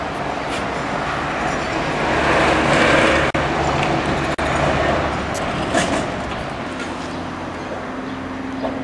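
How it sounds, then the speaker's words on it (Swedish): A tram in Sibiu, Romania, rumbles in, its roar swelling loud and close, then settling as it slows, ending with a faint steady hum and a thin squeal. "Nu kommer en spårvagn."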